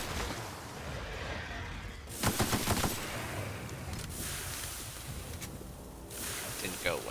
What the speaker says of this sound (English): I was trying not to use my assault rifle,